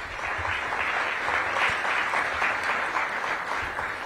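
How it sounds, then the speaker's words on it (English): An audience at a Reimagine Downtown DC action plan kickoff meeting gives a round of applause, dense sustained clapping at a steady level, fairly close and unbroken. "please give Jaron and Leona another round of applause"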